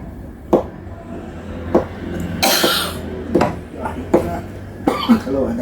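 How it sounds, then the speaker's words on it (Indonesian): Several short, sharp coughs break out at irregular intervals, close and fairly loud, mixed with a voice and some raspy breathy sounds. "Kalau ada asap jadi batuk sedikit."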